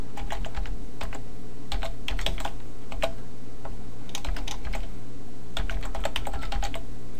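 Rapid bursts of typing on a computer keyboard while entering a script tag in HTML code, clustered keystrokes clicking close and clear in uneven runs with short pauses between, no speech.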